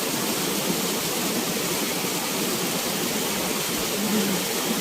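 Floodwater overflows near a bridge in a steady, broadband rush, a continuous roar of moving water with no breaks, heard fairly close.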